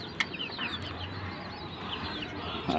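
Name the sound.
chicken clucking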